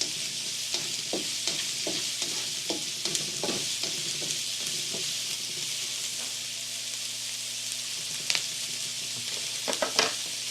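Onions sauteing in a pan for a vegan mushroom stroganoff, a steady close sizzle with repeated scraping stirs throughout and no talk.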